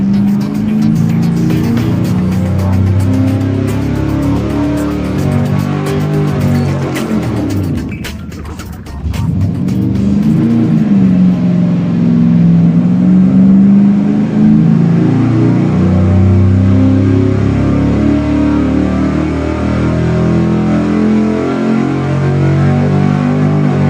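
A small block engine roars at high revs on a dyno during repeated pulls, loud and close. It climbs steadily in pitch, dips sharply around the middle, then sweeps back up to a sustained high-rpm drone.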